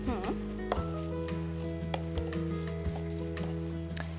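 Oil sizzles steadily as spice powder fries for a cowpea mallum, a continuous hiss with soft clinks and stirring scrapes of a spoon against the pan.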